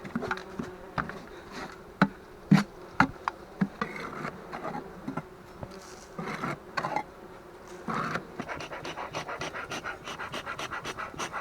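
Bees buzzing around an open beehive during cleaning, a low droning hum with scattered sharp knocks and scraping sounds, close by with no talking.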